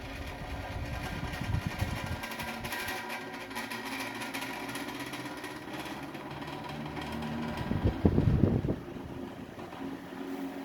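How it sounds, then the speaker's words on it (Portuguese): Electric fan from General, two-speed, switched on and running with a steady whirring, rattling drone that swells louder and rougher for a moment near the end before settling back; no talking. "vou mostrar o ventilador para vocês aqui, ó. Ele funciona às duas velocidades. Ó, ligando ele."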